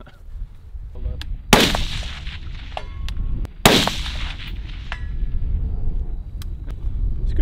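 Rifle gunshots fired offhand at a 300-yard target, two loud sharp cracks about two seconds apart, each with a booming tail over an outdoor background.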